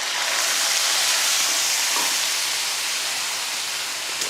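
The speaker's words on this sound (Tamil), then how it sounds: "சட்னி ஊற்றினதுமே அப்படியே சலசலன்னு ஒரு கொதி வரும்" Steady loud sizzling hiss of chutney boiling in a hot pan after seasoning, continuous and close with no pauses.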